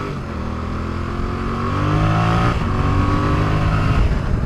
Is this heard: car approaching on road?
yes